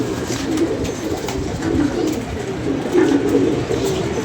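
Pigeons perched up on a rooftop give low, rumbling coos in steady, overlapping bursts, close by with no talk over them.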